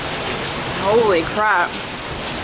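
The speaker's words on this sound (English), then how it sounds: "We had a massive rainstorm yesterday." A torrential downpour during a massive rainstorm in Singapore makes a steady, dense roar throughout, with a voice briefly exclaiming over it.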